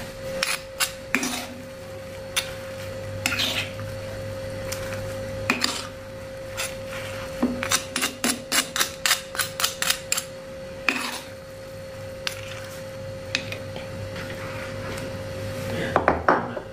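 Cut tofu is stirred in a bowl with a utensil, making repeated close clinks and scraping knocks that come in quick bursts over a steady low hum.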